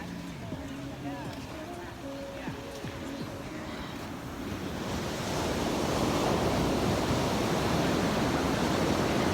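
Ocean surf at high tide on the California coast rolls in as a broad, rising wash of noise that swells louder toward the end, mixed with wind buffeting the microphone.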